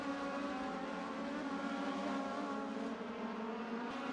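Race cars roaring around Irwindale Speedway, a continuous engine howl from several cars at a steady, fairly distant level with no voices over it.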